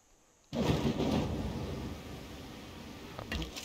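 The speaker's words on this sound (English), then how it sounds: "A dust storm." A dust storm in Civilization VI rushes in with a sudden loud gust of broad roaring wind that slowly eases to a steady windy hiss, with no talking.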